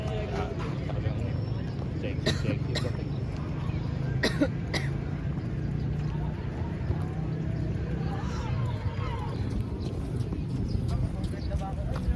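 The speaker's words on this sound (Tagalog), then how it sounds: "Ang ubo ko talagang maralaw." A few sharp coughs break through a steady background rumble, clustered in short bursts early on, with a voice heard nearby.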